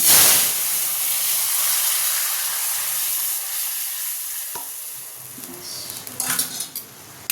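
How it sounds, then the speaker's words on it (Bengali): Mango dal cooking in a kadai with a tempering of dried red chilli and mustard seeds, a hissing sizzle and steam with clinks of a metal spoon against the pan, the frying sputtering louder in bursts near the end. "কড়াতে শুকনো লঙ্কা আর সর্ষে ফোড়ন দিয়েছি"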